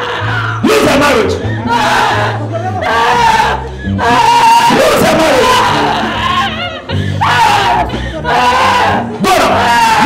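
A church congregation screams and wails during deliverance prayer at a prophecy service in Canada, loud overlapping cries rising in waves and briefly dipping between bursts, with a preacher's voice shouting over them.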